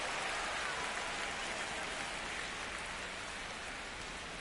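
Steady rain pours during a baseball game broadcast, a loud, even hiss of drops striking surfaces that continues without a break or any voices.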